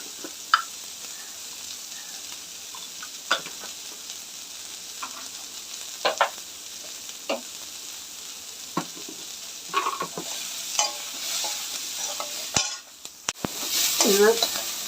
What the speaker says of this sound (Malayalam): ചീനച്ചട്ടിയിൽ ഇച്ചിരി ഓയിൽ ഒഴിച്ചിട്ട് ഇത്തിരി സവാളയൊക്കെ ഒന്ന് വഴറ്റിയെടുക്കുന്നുണ്ട്